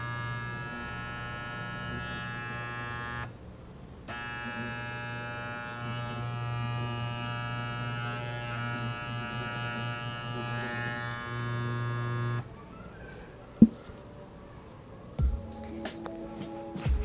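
An Andis corded hair trimmer runs with a steady, slightly rough electric buzz and hum for about twelve seconds, briefly cutting out once, then stops, leaving a few small clicks and handling knocks.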